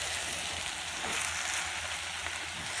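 Cabbage stir-fried in a pan with coriander added, giving a steady, close, broadband sizzle and frying hiss throughout, with faint scraping as it is stirred and no talking.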